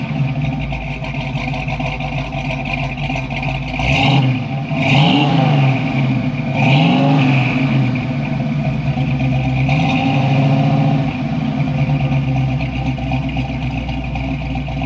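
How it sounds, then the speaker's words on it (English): A 1966 Ford Mustang coupe with a roller cam and tuned exhaust idles with a lumpy rumble, then revs up sharply several times in quick blips before settling back, loud and close with no voices. "they talked me into going with a tuned exhaust, and it sounds a whole lot better now"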